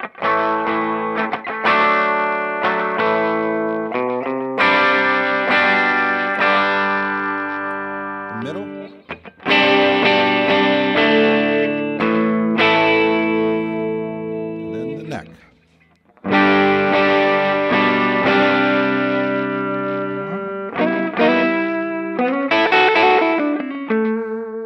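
1994 PRS McCarty electric guitar played with a clean sound, loud phrases of chords and picked notes in several bursts separated by short pauses, with nothing else over it.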